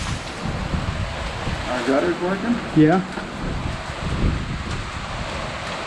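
Wind roars and rain with hail pours down in a windstorm as a steady broadband rush, while people talk briefly over it up close.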